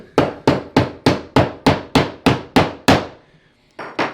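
A hammer bashes the corner of a piece of baseboard trim flat with nine evenly spaced, loud, sharp blows about a third of a second apart, then a pause and one final strike, close and with no talk.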